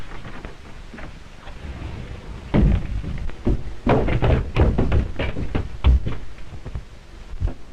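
A secret door in an old 1933 mystery serial creaks and thumps open, with a run of heavy knocks, scrapes and rumbling bumps over several seconds against a faint noisy background.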